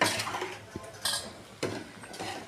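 Boiled egg curry stirred in a pan with a metal spoon, a few scraping clinks against the pan over a low continuous cooking hiss.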